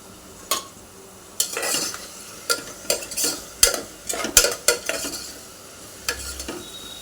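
Green chillies frying in a pan, with a utensil scraping and stirring in a string of distinct strokes over a soft, steady sizzle, close and fairly loud, with no talk.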